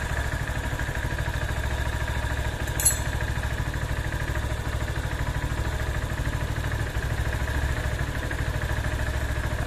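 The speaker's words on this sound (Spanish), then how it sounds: "Sonido del motor." A motorcycle engine idles steadily up close, a constant low chugging rumble with mechanical ticking and one brief sharp click.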